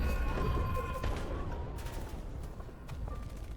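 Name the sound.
gunshots and screams in a video game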